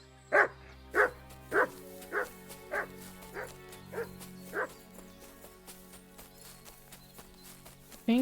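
The dog Mutt barks in the video game Kingdom Come Deliverance II, giving eight evenly spaced, moderately loud barks that fade a little toward the end, over a soft background hum.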